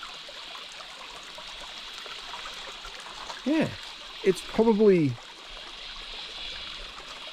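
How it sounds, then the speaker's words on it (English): A creek flows steadily with a broad, constant watery rush throughout, while a person briefly speaks over it near the middle. "and have a quick look at the creek."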